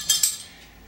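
Two quick metallic clinks of a utensil against a bowl while fudge mixture with hazelnut is stirred, followed by a soft fading ring.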